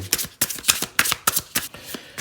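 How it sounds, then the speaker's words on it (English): Slippery tarot cards shuffled by hand in quick riffling bursts, a rapid series of crisp papery flutters with brief pauses between, close and clear with no talking. "These cards are very, very slippery, which makes them easy to shuffle"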